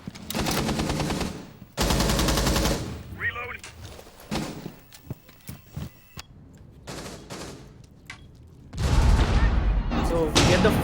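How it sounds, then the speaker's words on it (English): Gunfire bursts in a Rainbow Six Siege tournament match, with sharp repeated shots and a loud blast, broken by quieter gaps; a voice talks at times between the louder bursts. "So we get the first frag of the round, and it's literally by a frag grenade."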